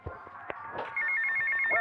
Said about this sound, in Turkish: Aa telefon çalıyor açalım